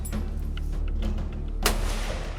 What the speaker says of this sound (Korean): 진짜 총소리였어요.